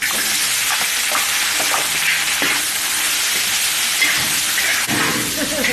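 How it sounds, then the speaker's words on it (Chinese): Roast duck stir-fried in a wok with ginger, sand ginger and garlic gives a loud, continuous sizzle and hiss, with scraping stir strokes and small clatters breaking in throughout and no talking. "烤鸭肉呢，我就放了一点姜啊、沙姜还有蒜头，再来给它爆香啊"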